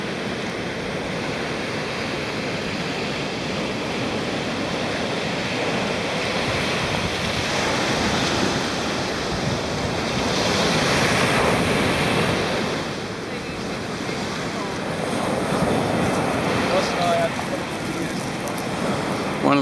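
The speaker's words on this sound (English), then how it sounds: "out to where the waves are breaking along here" Ocean waves break steadily at Fishermans Beach, Long Reef in Sydney, a continuous surf wash that swells and recedes over several seconds, mixed with wind buffeting the microphone.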